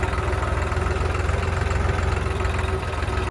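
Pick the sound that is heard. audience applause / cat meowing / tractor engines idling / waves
tractor engines idling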